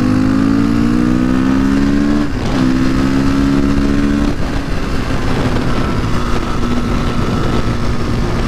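Honda CRF dirt bike engine running steadily while riding, a loud continuous drone with a gear or throttle shift partway through, holding a droning tone to the end with no talk.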